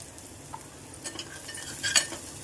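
Asafoetida (hing) dropped into hot cooking oil in a home kitchen for masoor dal amti, giving a soft, faint sizzle with a brief brighter crackle near the end, no talking.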